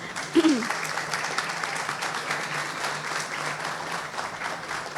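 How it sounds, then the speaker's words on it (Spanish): Steady applause from a crowd fills the stretch, a dense even patter of clapping with a brief voice near the start. "Un aplauso por favor para Pat."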